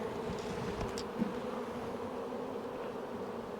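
Honeybees in a queenless hive buzz loudly and steadily, a dense close drone holding unbroken throughout without any voices.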